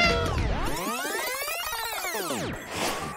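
A cat meows in a long, drawn-out wail with a rising then falling pitch, loud and close, and a second shorter call follows at the end.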